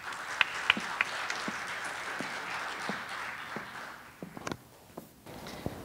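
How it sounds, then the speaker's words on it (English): Faint, thin applause from a small audience at a student talk, scattered claps and a few louder nearby ones fading out over several seconds in a quiet room. "Let's have a big round of applause for Tara."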